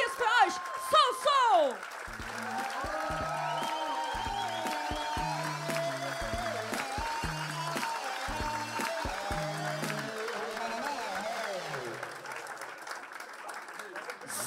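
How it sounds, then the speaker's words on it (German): Steady applause from a comedy club audience fills the room for most of the stretch, with a brief voice and music at the start and cheering textures throughout. "Applaus"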